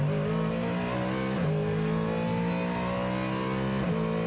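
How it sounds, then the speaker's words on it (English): Ford Mustang GT3 race car at Le Mans accelerating out of pit lane, a loud, harsh engine note climbing steadily with two quick gear changes, the car heard close throughout. "Barker refires the Mustang up to the pit lane speed limit to once again re-emerge back out on circuit"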